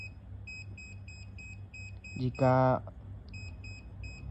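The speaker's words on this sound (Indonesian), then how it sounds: "Jika benda mendekati dengan sensor ultrasonik maka buzzer akan menyala dengan cepat." An electronic buzzer in an ultrasonic sensor circuit with an LED beeps in a steady, rapid, evenly spaced pattern, quiet and close, with the beeps briefly broken by a person speaking.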